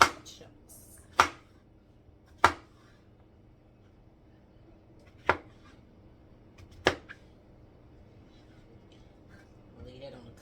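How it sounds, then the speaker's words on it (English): Knife slicing mushrooms on a cutting board, five crisp, spaced thuds of the blade striking the board at an uneven pace, close and distinct against a quiet room, with a soft rustle at the end. "I'm going to cut my mushrooms, and I'm just going to cut them in slices like this"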